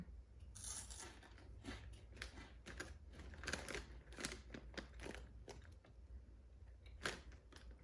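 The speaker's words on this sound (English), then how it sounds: "The crunch though is not that great again, which is odd." Someone chews ranch-flavored Cheetos fries, Cheeto snacks shaped like French fries, with a run of faint, close crisp crunches and bites at an irregular pace.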